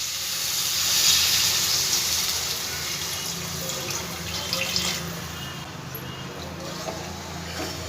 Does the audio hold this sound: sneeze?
no